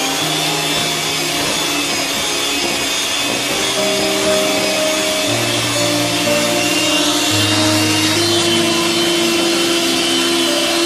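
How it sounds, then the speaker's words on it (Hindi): Electric beater whipping butter and sugar for eggless vanilla butter cookies, a loud continuous motor whine with shifting tones as the blades churn the mix, steady for the whole stretch with nobody talking. "अब इसको तकरीबन 10 से 12 मिनट बीटर के साथ मिक्स करेंगे।"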